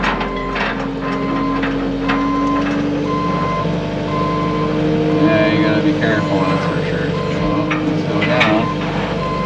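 A truck unloading pallets of brick at a driveway gives steady reversing beeps over a running engine, with clanks and someone talking nearby.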